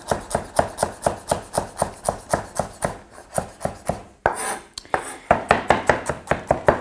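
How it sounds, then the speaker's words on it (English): A knife chops coriander roots, chili and ginger on a board in steady, close, even strokes, with a brief scraping pause before the rhythmic chopping resumes. "so I'm just going to chop them up really small"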